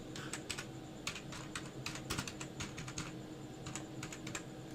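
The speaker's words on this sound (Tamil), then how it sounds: "ஸோ நேம் வந்து நான் டைப் பண்ணிட்டேன்." Quiet, rapid typing on a computer keyboard while entering an accounting payment voucher, with irregular bursts of keystrokes over a faint steady hum and no talk.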